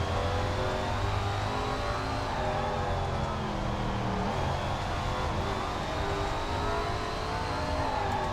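Super late model race car in SRX: The Game at Eastern Hills, its engine roaring steadily as it accelerates hard off a corner, a loud continuous rising drone with dense harmonics and no voices.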